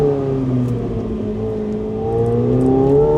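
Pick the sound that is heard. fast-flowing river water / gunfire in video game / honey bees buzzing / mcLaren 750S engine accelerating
mcLaren 750S engine accelerating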